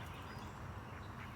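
Geese calling in a short, steady burst of honking, dense and continuous throughout, with no talk over it.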